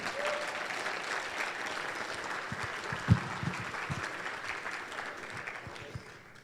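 A crowd applauds at a summer awards banquet, with dense, sustained clapping at moderate distance that holds steady, then thins and fades toward the end.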